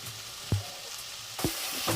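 Mutton masala with tomato and onion sizzles softly in a pan, while a spoon stirs it in two or three distinct scraping strokes over the steady frying hiss.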